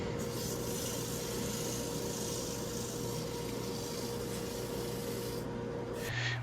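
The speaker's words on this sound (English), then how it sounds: "Now all that's left on the legs is a quick sand just to smooth everything out." Turned wooden table legs made from 2x4s are sanded on a lathe, a continuous even abrasive rushing with a steady motor drone that cuts off near the end.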